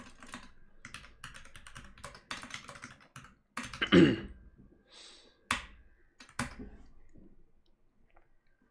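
Typing on a computer keyboard for Cyrillic text, with irregular bursts of close clicking keystrokes, a few louder taps and short gaps, quiet overall with no speech.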